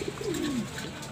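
A racing pigeon in a loft gives a single soft, low coo, close and clear over a faint background hiss.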